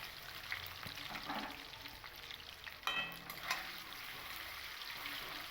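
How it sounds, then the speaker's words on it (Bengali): Paneer pieces frying to a light reddish colour in a pan for palak paneer, a steady soft sizzle with occasional stirring scrapes and a small clatter, close and low in level, no talking. "বাকি যে পনিরগুলো আছে সেই পনিরগুলোকেও আমি এরকম হালকা লালচে কালার করে একটু ভেজে নেব"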